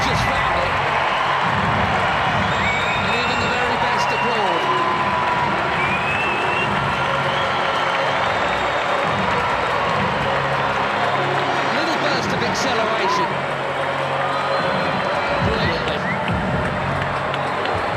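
Stadium crowd in FIFA 2026 during a Portugal versus Nigeria match, a steady broad roar of applause and cheering sustained throughout, with a commentator's voice running over it.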